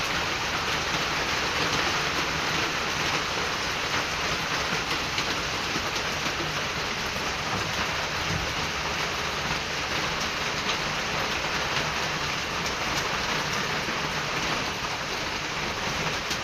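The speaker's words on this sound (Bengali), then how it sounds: "আমাদের তো পটিয়াতে বৃষ্টি হচ্ছেই।" Steady rain pours down in Patiya, a dense, continuous hiss of drops striking surfaces that stays loud and unbroken throughout, with no voices.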